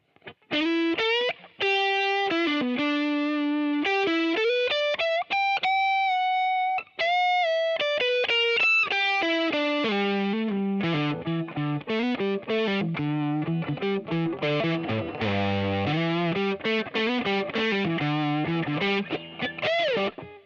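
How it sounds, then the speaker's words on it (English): A Gibson Memphis ES-355 electric guitar with Bigsby, run through distortion, plays a run of sustained notes and quick riffs, gritty and buzzing, loud and close with no voices. "if we put some distortion on that, here's what we get"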